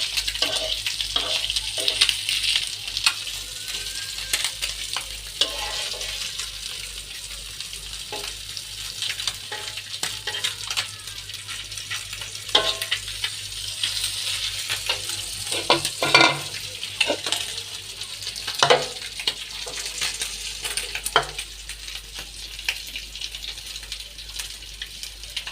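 Puti fish frying in oil, a long steady sizzle punctuated by repeated stirring scrapes and clinks of a utensil against the pan.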